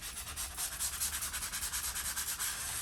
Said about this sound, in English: you sand along and this will just peel away if it's not stuck down